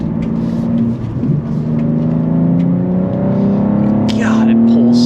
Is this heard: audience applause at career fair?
no